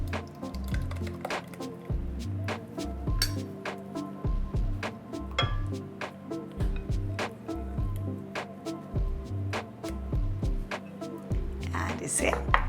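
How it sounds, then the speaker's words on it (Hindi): Yogurt mixture poured into tomato masala for jackfruit biryani and stirred in, giving soft wet squishes and scraping clinks in a steady rhythm over low background tones. "अब इसे डाल देते हैं टमाटर के मसाले में।"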